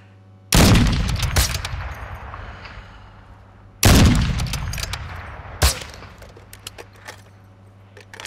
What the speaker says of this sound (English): we're getting shot by two different people